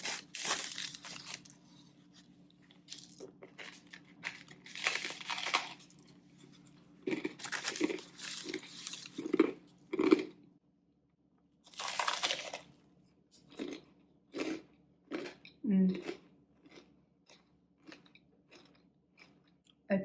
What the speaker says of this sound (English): It's super crunchy on the outside, but it's nice and soft on the inside.